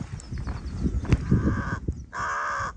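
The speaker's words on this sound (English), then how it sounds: "I don't speak Crow, but he didn't seem very happy." A crow caws in the Irish countryside, a few harsh calls against outdoor rustle and handling noise, followed by a louder sustained, buzzing call near the end.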